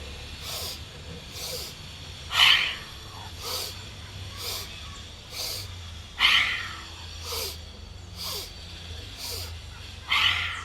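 Breath of Joy yoga breathing: rhythmic, forceful breaths come in a steady series of short bursts about once a second, with stronger exhales every few seconds, close and clear.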